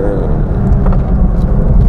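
A Lexus LC 500h hybrid coupe accelerates under steady throttle, its engine a low continuous drone heard from inside the cabin, with road and wind noise mixed in and a voice speaking over it.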